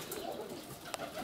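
Pigeons coo softly in a dovecote, a low, faint murmuring under steady background noise with a brief click near the end.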